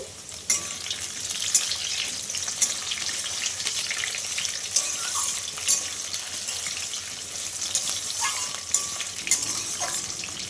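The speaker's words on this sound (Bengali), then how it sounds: "আলুটা কিন্তু লাল লাল করে ভাজা হয়ে গেছে এখন আমি এই যে টমেটো কুচিয়ে নিয়েছি টমেটোটা দিয়ে দিচ্ছি" Potatoes frying in a pan with chopped tomato added, a continuous crackling sizzle with intermittent sharp stirring clicks of a utensil, steady and close with no talk.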